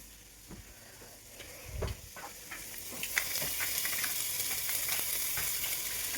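Rice sautéing in a pan with salt and seasoning sizzles and crackles steadily, with soft stirring scrapes and a few sharper clicks, growing slightly busier toward the end; no one talks.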